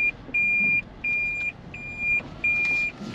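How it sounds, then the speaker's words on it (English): Inside a moving Toyota Prius, a high, steady electronic buzz from the brakes sounds in four separate long pulses with short gaps between them, set over low road noise. "There's our little brake buzz again."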